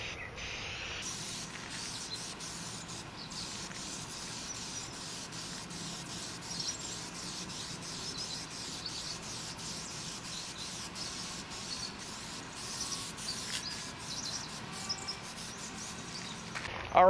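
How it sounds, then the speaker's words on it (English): Oil sprayed onto the expanded-metal welds of a Stumps Baby XL smoker during initial seasoning, a steady soft hiss that runs unbroken for the whole stretch with faint patter underneath. "make sure you get all the weld areas sprayed down good"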